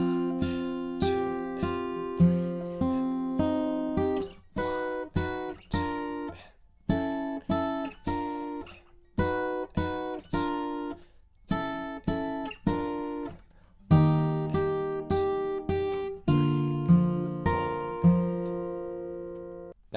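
Fingerstyle acoustic guitar picks out a line, plucked notes and chord shapes ringing clearly in a steady counted rhythm, solo and close with no talking.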